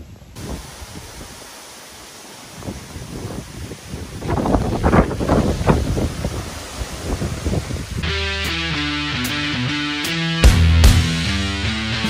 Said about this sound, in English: How windy is the Jeep Gladiator with the top open?